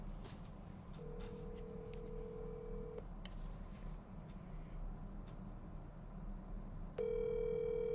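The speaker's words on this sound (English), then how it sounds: "we're going to call him up right now using my phone" A phone call is placed: steady tones and a ringback signal play through a handset, a long tone early on and another starting near the end, quiet and clean with faint clicks and no talking.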